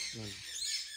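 Constant shrill squawking from many birds in an aviary, with a brief low voice murmuring underneath near the start.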